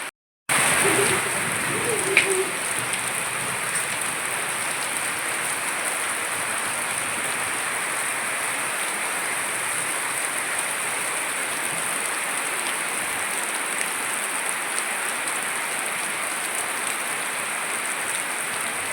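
Steady, dense summer rain hisses evenly throughout, a continuous heavy downpour with no breaks, after a short silent start.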